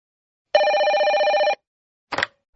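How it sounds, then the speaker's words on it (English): A telephone bell rings in one sustained, close burst of about a second, followed after a short pause by a brief second trill, with no talking. "Hello, is this the AAA employment agency?"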